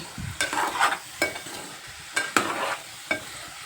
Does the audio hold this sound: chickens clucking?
no